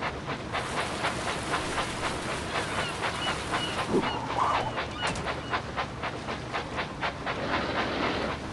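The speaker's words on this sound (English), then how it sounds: "Clear the tracks. Engine coming." A cartoon toy train engine running along the tracks, a steady rhythmic chugging clatter that stays close and even, with a brief honk-like squeak partway through.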